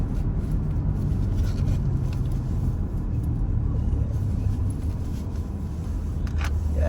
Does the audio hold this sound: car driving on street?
yes